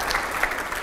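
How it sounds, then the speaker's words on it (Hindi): A brief wash of continuous audience applause at a televised interview event, steady and fairly loud with no voices over it. "अगला सवाल, तालियां हो जरा जोरदार"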